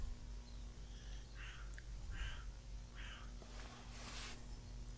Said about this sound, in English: That crow is getting annoying.